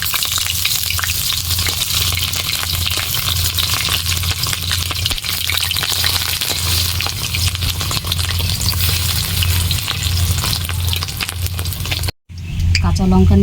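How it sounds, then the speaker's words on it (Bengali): Fish roe fries in a hot pan with a loud, continuous sizzle and crackle for a long stretch, cut off by a sudden brief break near the end. "ডিম ভাজা হয়ে গেছে, এবার তুলে নেব।"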